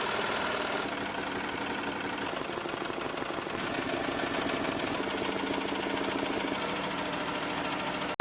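An embroidery machine stitches a 3D puff foam design onto a duffel bag with a steady, rapid mechanical chatter and hum that runs continuously and evenly. No voices are heard.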